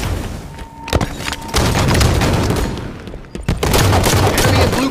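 Gunfire in Halo 5 multiplayer Slayer: loud, dense bursts of shots and sharp impacts, with sustained rattling volleys and a few punchy cracks layered over game noise.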